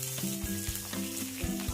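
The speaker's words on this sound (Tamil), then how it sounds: "சாம்பார் தாளிச்சிடலாம்" Spices for sambar, such as fenugreek, a dried red chilli and curry leaves, sizzle loudly in hot oil. The frying is steady and close, with brief stir scrapes and no voices.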